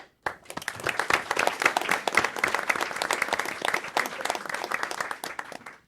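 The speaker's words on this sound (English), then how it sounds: "All right, round of applause." A room of people at a county board of commissioners meeting claps for an honored employee, a brisk, full burst of applause starting abruptly and continuing steadily before fading at the end.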